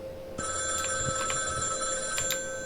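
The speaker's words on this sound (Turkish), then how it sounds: "Telefon çalıyor ya." A telephone rings in a horror video game, a clear trilling bell starting after a brief pause and repeating steadily, moderately loud with faint background ambience.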